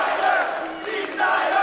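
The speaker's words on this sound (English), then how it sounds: "And the crowd's into it." A crowd cheers and roars loudly and continuously at the Classic Tetris World Championship final, with swelling waves of voices filling the venue.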